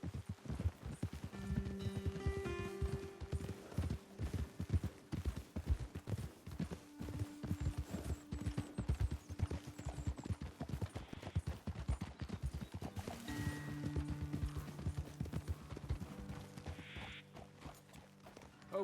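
Horse hooves clip-clop in the Red Dead Redemption II video game, a steady rhythmic trot running the whole way, close and fairly loud, mixed with a background music score.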